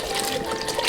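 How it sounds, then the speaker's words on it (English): Vegan beef broth pours steadily into a cooking pot, a brief continuous liquid splash and trickle heard up close. "Then I do this entire thing of the vegan beef broth."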